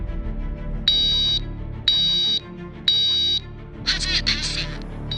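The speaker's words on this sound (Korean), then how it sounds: "바로 화재 경보기 알람 소리입니다." A fire alarm sounding three evenly spaced loud electronic beeps, each about half a second, followed by a burst of harsher noise.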